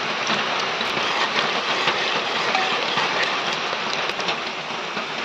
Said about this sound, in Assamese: পিঁয়াজখিনি ৰঙা হোৱালৈকে মই তেলত ভাজি থাকিম